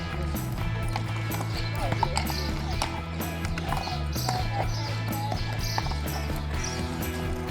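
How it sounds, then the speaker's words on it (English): Steady clip-clop of horse hooves on hard ground, close by and rhythmic, with faint voices in the background. "This horse is ready to go."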